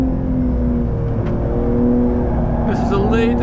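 Engine of a 2021 Porsche 911 Carrera GTS (992) held at full throttle on the Franciacorta circuit, a steady loud drone with rising harmonic tones toward the end, continuous throughout.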